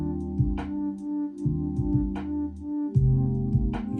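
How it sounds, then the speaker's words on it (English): A squelchy Roland 303-style synth bassline plays alone in a steady repeating pattern, its notes sliding and accenting, run through a vinyl simulator and compressor for a compressed, slightly lo-fi tone. "I put the 303 vinyl sim and the compressor on"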